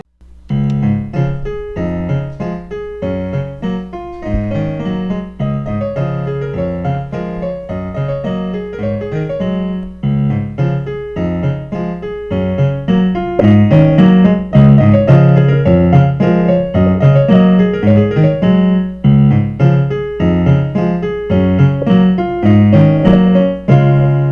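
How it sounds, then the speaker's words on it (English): Village background music from The Legend of Zelda: Breath of the Wild, a loud, bright melodic tune with plucked and keyed tones in a steady rhythm, played alone without talking. "it has the best music in the entire game,"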